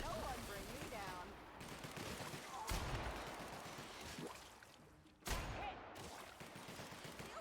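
Rapid automatic gunfire in a shooter video game, dense bursts of shots with a few sharp louder cracks, continuing almost without pause.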